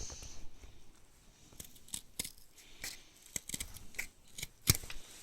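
Scissors snipping leather while a knife is being made, a string of short, crisp cuts at an irregular pace, close and fairly quiet, with no talk.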